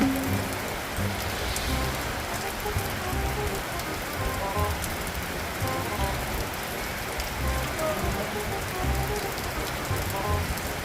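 Steady rain falls and patters on a surface, a dense, even hiss with scattered drops for the whole stretch, no talking.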